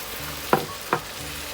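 Tilapia with chili and celery stir-fried in a hot pan: two quick spatula scrapes stand out over a low, steady sizzle, close and fairly loud.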